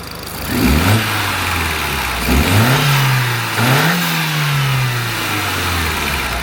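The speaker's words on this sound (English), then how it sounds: "clearly the intake noise between the short ram and the Sprogley enclosed intake is quite different" A car engine fitted with an enclosed cold air intake revs up three times from idle, each rise in pitch sweeping up and then settling back to a steady drone, loud and close with no talking.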